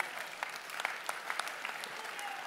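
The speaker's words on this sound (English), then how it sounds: "Give her a round of applause for helping me." An audience at a mind reading show claps in steady, moderate applause, a brief burst heard from within the room at low-to-medium loudness.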